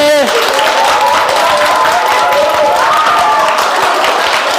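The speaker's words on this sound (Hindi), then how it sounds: "ताली बजाएंगे, क्या तो जोर जोर से, जोर जोर से बजाओ" A group claps hard and fast at a Bharatiya Bhasha summer camp session. The sustained loud applause runs throughout, with voices calling out over it.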